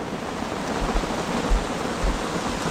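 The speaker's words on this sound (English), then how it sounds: "I think this whole entire video is going to be about rain." Rain falls steadily at a lakeside campsite, a soft, even hiss with a few low thumps, moderately loud and with no voices.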